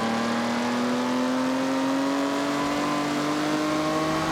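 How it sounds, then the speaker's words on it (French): Engine of a car in Forza Horizon 6 revving up as it accelerates along a coastal road at night, a steady rising whine with clear harmonic tones, loud and continuous with no talk. "on va mettre un petit coup d'accélérateur"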